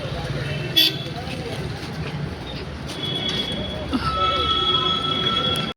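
Busy ambience at Indiranagar metro station in Bangalore with a passing metro train's rumble, a short horn toot and rising whine, while people talk nearby.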